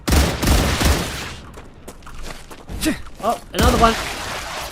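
Rapid gunfire bursts from the StarRupture video game, loud and dense at first, then sparser shots, with someone talking over the action.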